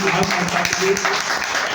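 Loud applause from an audience at an AWPL gathering, a dense wash of clapping sustained throughout with a voice faintly mixed in.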